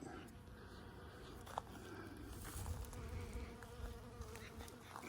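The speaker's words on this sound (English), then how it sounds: "See the bees? It's amazing they're getting these little itty bitty blossoms." Bees buzz around small pea blossoms in a garden, a soft, continuous hum from several insects with occasional louder passes close by.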